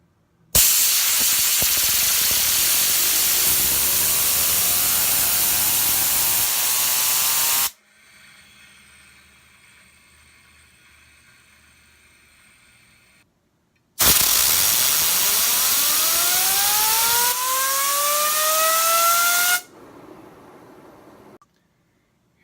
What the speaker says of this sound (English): each fidget spinner is going to get 6 trials with 8 seconds of air blast